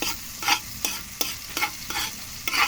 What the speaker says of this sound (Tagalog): Nilusaw ko yung butter guys.